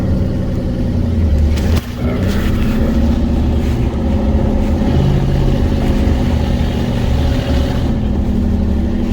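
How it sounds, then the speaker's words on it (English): A car engine pulls steadily uphill in third gear on a desert drive, a loud, continuous drone that holds close and constant with a brief dip partway through. "Change gears to third gear, get a little speed here"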